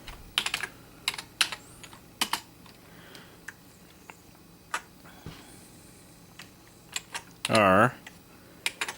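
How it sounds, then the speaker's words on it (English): Fingers typing on a Commodore Plus/4 computer keyboard, sharp irregular clicks and key taps in short bursts, close and fairly clear, ending in a brief louder rattling clatter. "So we're going to type"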